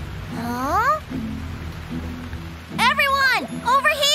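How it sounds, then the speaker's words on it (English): A steady hiss of cartoon rain falls throughout, and animated characters speak over it in a few short, rising lines. "Why is it suddenly raining?"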